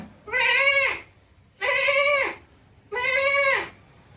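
A person's voice imitates a goat, giving three drawn-out bleats in an even rhythm, close and clear.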